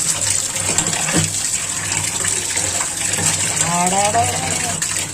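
Meat being washed by hand under a running kitchen tap, with a steady gush of water and splashing and handling noises close by, plus a brief squeak partway through.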